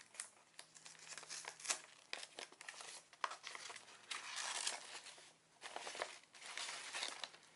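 Paper-wrapped stationery package sealed with dotted washi tape being opened up close, with repeated crinkling and tearing of paper in irregular bursts, no talking.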